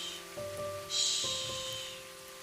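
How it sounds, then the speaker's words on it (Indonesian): Rain pattering steadily on the corrugated zinc roof of a back storage shed, a soft continuous hiss with a brighter burst of drumming near the middle, fairly close and with no voices over it. "Awalnya hanya rintik-rintik. Tik, tik, tik, di atas atap seng gudang belakang."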